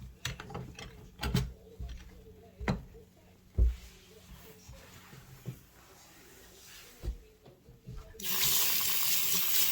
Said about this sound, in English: Wash out the sink.